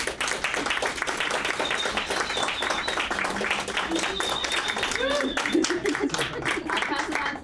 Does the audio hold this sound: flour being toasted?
no